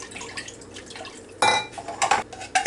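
A spoon stirs gravy for old-fashioned beef stew in a pot, first with soft scraping, then with a few sharper clinks and knocks of metal on metal near the end.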